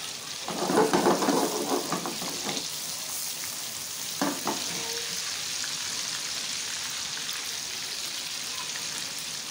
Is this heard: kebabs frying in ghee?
yes